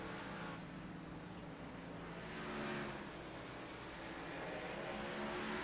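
A race car on a track moves past during a pit-stop sequence, one car overtaking another as it leaves its pit stall; a continuous loud engine drone swells slightly in the middle, with no talk.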